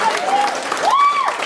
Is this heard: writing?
no